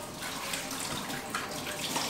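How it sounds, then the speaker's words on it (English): Water pours steadily from an aquarium display tank through a hose into a tub, a continuous broadband splashing rush that stays even in level throughout, with no talking. "what I'm doing is draining water from the tank down into our tub"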